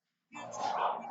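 Dogs at a show make a close, continuous burst of barking and whimpering yips lasting about a second, rising out of silence with no talk over it.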